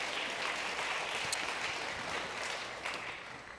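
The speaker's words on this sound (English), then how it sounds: "You give them a round of applause." An evening talk audience claps in a continuous, moderately distant round of applause lasting a few seconds, with no voices over it.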